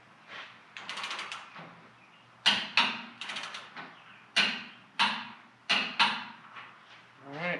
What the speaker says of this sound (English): Alright, so I got the torque wrench set at 75 right now.